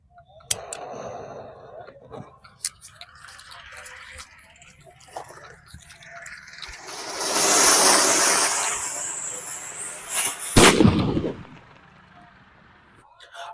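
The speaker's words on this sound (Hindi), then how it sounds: "ये 2 in 1 अनार है समझ लो भाई, इसमें 2 तरह का कुछ यूनिक होने वाला है" A 2-in-1 anar firework fountain goes off during Diwali, building to a loud, sustained hissing spray of sparks that ends in a sharp crackling burst near the end, with people talking throughout.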